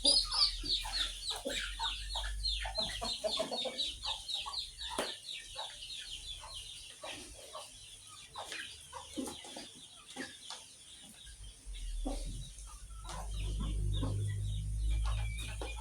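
Free-range village chickens clucking, a busy run of close, repeated clucks and chatter with a low background rumble rising toward the end.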